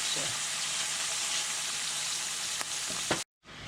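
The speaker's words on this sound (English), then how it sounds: "So here's our rabbit in the avocado oil. We're going to brown this on both sides" Rabbit pieces sizzling steadily as they brown in hot avocado oil, a dense even frying hiss with a couple of brief clinks before a sudden cut to near silence.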